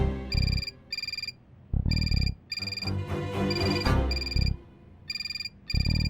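A telephone rings repeatedly in a women's police station, bursts of bright electronic ringtone recurring through the clip, with other voices and background activity mixed in between rings.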